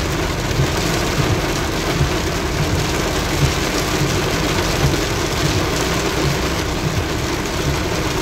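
Heavy rain drums steadily on a car driving along an elevated road in Bang Kapi, Bangkok, with a low engine hum beneath the constant loud downpour and no talking.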